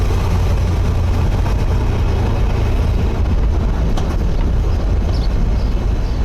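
A Chevrolet Impala with a newly installed transmission slows to a stop and downshifts, its engine a steady low rumble that runs continuously and close throughout, with no clear shift change standing out.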